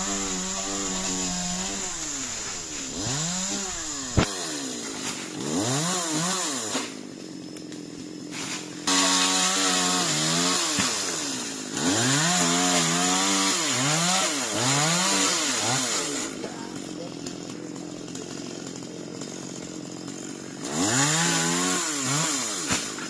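A chainsaw cutting down tall old coconut trees, its engine loud and close, revving up and down in repeated surges as the blade bites into the trunk, with brief idle dips between cuts and no talking.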